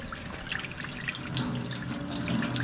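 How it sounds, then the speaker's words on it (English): Warm water runs from a kitchen sink tap in a steady, splashing stream, close by and continuous, growing slightly fuller toward the end. "Actually going to turn on the warm water,"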